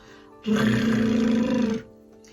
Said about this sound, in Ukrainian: Як кричить тигр.